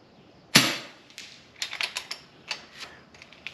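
An FX Impact M3 air rifle fired quickly outdoors: one sharp crack, then a rapid run of about eight lighter, snappy reports spaced a fraction of a second apart, fairly close and with no talking.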